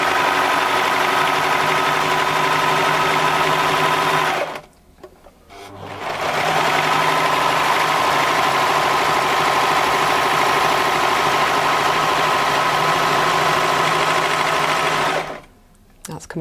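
A Baby Lock Enlighten sewing machine stitches sheer 100% silk chiffon in two long steady runs of close, even motor whir, with a brief pause between them and a stop near the end.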